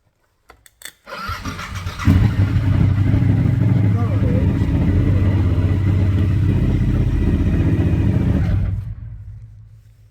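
A car engine cranking briefly and catching after a jump start on a suspected weak battery or relay fault, then running at a loud steady idle for several seconds before cutting off.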